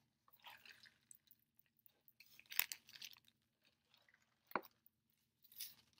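Someone chews a Taco Bell taco topped with ranch from the $5 Cravings deal: soft, wet, squishy bites and crunches come in scattered bursts between near-silent pauses, close and quiet, with no talking.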